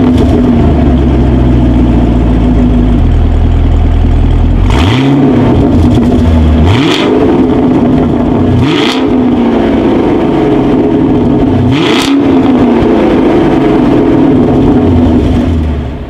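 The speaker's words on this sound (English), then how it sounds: "As always, here is that exhaust clip." A 2019 Chevrolet Camaro SS V8 exhaust idling, then blipped hard several times in sharp roaring revs before settling back to a steady, loud rumble.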